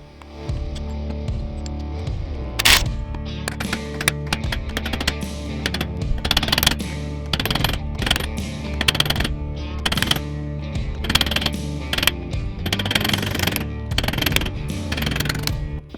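Repeated sharp metallic blows as a copper bar drives a bearing race out of a differential pinion housing during gear installation, loud irregular strikes over a steady low hum in a workshop.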